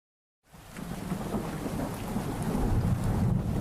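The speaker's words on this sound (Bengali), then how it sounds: "বাইরে তো বৃষ্টির তোড় বাড়ছে" Heavy rain pours down in a thunderstorm, beginning after a brief silence and building into a dense, continuous roar with low thunder rumbling underneath, growing slightly louder toward the end.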